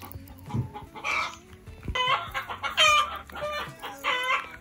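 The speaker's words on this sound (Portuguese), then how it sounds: "as galinhas estão na festa, velho. Na hora delas botar." Hens clucking and cackling at laying time on a small garden farm, loud bursts of cackles and calls in irregular clusters close by, with a rooster-like crow among them and no talk.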